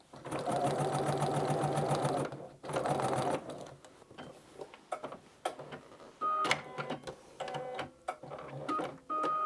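A sewing machine runs steadily while stitching a skirt seam up to a marked dot, then a backstitch, followed by short bursts of handling and clicking noises.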